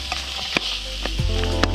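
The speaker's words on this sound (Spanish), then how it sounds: "lo ponemos a que se vaya guisando la mantequilla con la cebolla" Butter and onion frying in a pan on a beach cookout, a steady low sizzle with a few sharp crackles and clinks, close and alone.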